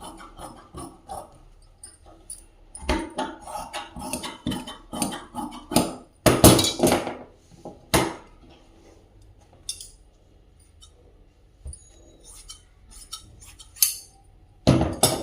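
Scissors cut through folded blouse fabric in irregular bursts of snipping, rustling and scraping against a table, separated by short quiet pauses, close and fairly loud.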